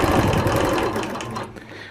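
A Handy Quilter Q16 quilting machine stitching a quilt, a rapid close mechanical whirring and clatter running continuously before easing off at the end.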